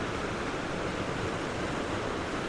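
A river rushing down through the high fells gives a steady, dense broadband roar of flowing water, constant and unbroken, fairly loud with no voices.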